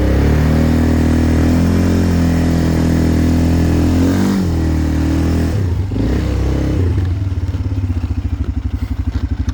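A Mikilon Hardy ATV engine revs loudly and continuously as it climbs a small hill, a strained droning roar that dips and then settles into a throbbing, pulsing idle near the end.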